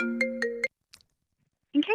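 Phone ringtone of an incoming call on a live radio show: a few sustained repeated tonal bursts in quick succession, then a pause and a brief different chime, fairly close and clear with no talk over it.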